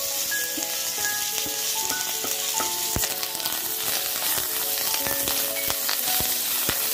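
Coriander and curry leaves fry for onion sambar in a dense, continuous sizzle full of sharp pops and crackles, loud and close, with no talking.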